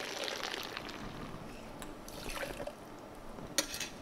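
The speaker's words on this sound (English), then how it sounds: "So 7 centiliters pour." Vermouth and vodka poured into a glass for a reverse martini, a soft close liquid trickle and splash with a light glass clink near the end, quiet and without talk.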